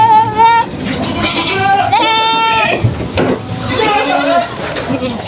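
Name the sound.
goats bleating on a farm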